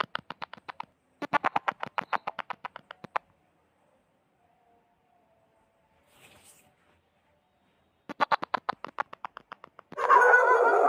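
Street dogs barking at a leopard at night, sharp rapid bursts in two clusters separated by a long quiet gap, moderately distant, with a rustling noise at the end.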